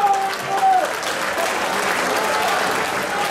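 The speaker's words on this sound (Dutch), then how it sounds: "laten we starten met een enorm applaus voor deze beide strijders" Crowd at a fight event applauding two fighters, a dense, continuous roar of clapping heard up close, with a brief voice at the start.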